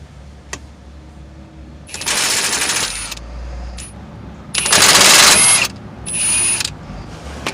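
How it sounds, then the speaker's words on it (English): A ratchet with a 5/8 socket works loose the bearing cap bolts on a Jeep axle, sounding as three bursts of rapid metallic clicking, the middle one loudest and close, separated by quiet pauses. "You'll need a 5/8 socket to remove the 4 bearing cap bolts."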